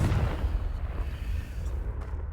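A Confringo blasting spell going off in Hogwarts Legacy: a low, rumbling blast that booms loudest at the very start, then tails off into a sustained dull roar.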